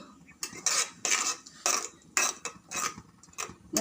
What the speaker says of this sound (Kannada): ಚೆನ್ನಾಗಿ ತಿರುಗಿಸ್ತಿರ್ಬೇಕು